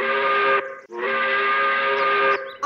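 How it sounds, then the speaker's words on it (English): A cartoon train whistle blows two long, steady tonal blasts with a brief gap between them, loud and close, ending abruptly. "I think I should blow the train whistle so that she knows we're here."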